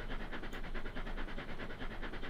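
A train hauling empty cars in Trainz: A New Era rolls steadily along the track, a continuous close rumble with rapid rhythmic clickety-clack from the wheels.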